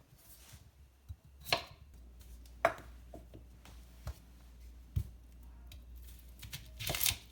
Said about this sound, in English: I'll cut up the potatoes and the onion to get them ready for the food processor.